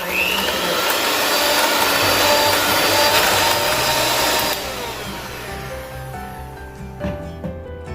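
An electric mixer beats pumpkin dessert filling in a bowl, giving a loud steady whirring drone for about four and a half seconds before the motor drops to a lower, quieter hum with faint knocks.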